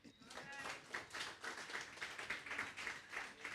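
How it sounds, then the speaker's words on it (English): Scattered clapping at an outdoor political gathering on a front step, faint and somewhat distant, with irregular pulses of claps that continue steadily over a few seconds. "clap for that"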